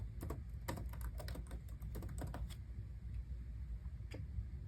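Typing on a computer keyboard while entering budget figures, a quick run of soft, close key taps with a few isolated clicks afterward, faint and with no talking.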